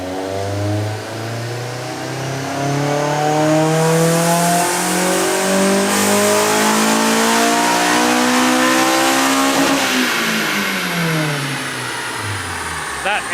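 A Honda S2000 with an OEM air box intake mod revs hard on a dyno: a loud engine note climbs steadily for about ten seconds, then falls away as the run ends.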